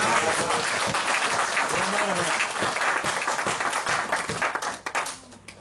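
Church congregation applauding and clapping during a French-language sermon, a dense continuous wash of many hands filling the space, steady for several seconds before thinning and fading at the end, with a voice faintly woven through.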